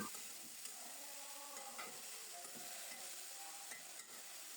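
Shredded cabbage leaves and grated coconut fry together in a pan, a steady soft sizzle with scattered scraping stirs and light clinks throughout, no talking.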